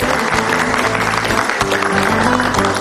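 Wedding guests applaud the young couple as they are invited to dance, a dense continuous round of clapping mixed with festive music, busy and close throughout.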